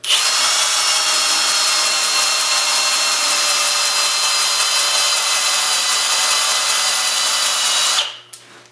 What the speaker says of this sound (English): I've just got a rubber disc on a drill. We'll just run it in